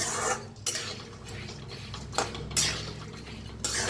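Moth beans (matki) dry-roasted in a pan, the spatula scraping and stirring in several sweeping strokes with light rattling of the beans against the metal.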